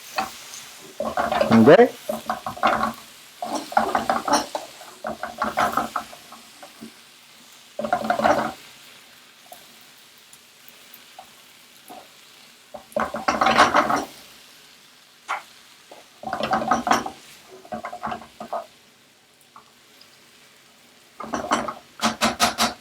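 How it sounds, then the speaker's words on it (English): A spoon scrapes and stirs veal osso buco ingredients in a pan, in repeated close bursts separated by quiet pauses, with a brief spoken remark. "We're gonna stir everything together"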